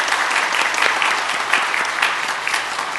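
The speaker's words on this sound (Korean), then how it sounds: "인사하실 때에 우리 박수로 환영하는 시간을 갖도록 하겠습니다." A church congregation applauds during a Sunday service to welcome new members, a dense, even clapping that carries on steadily without pause.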